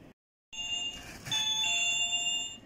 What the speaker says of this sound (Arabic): صوت الباب ده، صوت الجرس